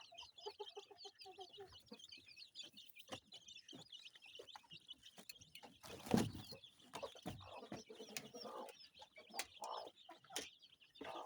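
Kienyeji hens in a grass-lined coop room cluck and murmur in soft, irregular bursts, with several birds calling at once near and far and one sharper, louder squawk midway.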